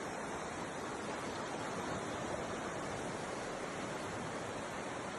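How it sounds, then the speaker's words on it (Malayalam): The flooded Meenachil river surges past in a strong current, giving a constant, even roar of rushing water with no breaks, heard at a steady, fairly low level. "മീനച്ചിലാറിൽ ഒഴുക്ക് ശക്തമായി"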